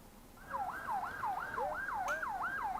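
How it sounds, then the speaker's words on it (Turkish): An ambulance siren arriving at a motorcycle crash scene gives a steady, repeating up-and-down wail, moderately loud over faint road background. "kaza olduktan 9 dakika sonra ambulans Berkay'ın başına geliyor."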